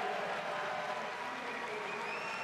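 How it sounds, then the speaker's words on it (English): A swimming crowd at the 2023 NCAA Championships cheers and applauds Léon Marchand's 400 IM record as a steady, distant, even roar that does not let up. "The crowd on their feet celebrating Léon Marchand."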